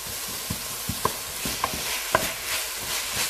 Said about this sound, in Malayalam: ഇനി നമുക്ക് ഇത് നന്നായിട്ടൊന്ന് വഴറ്റി എടുക്കാം.